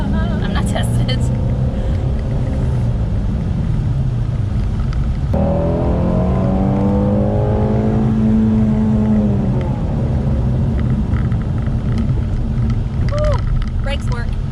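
Ford Mustang Shelby GT350 engine droning loudly and steadily from inside the car, with a falling whine as it brakes hard midway; voices talk over the noise.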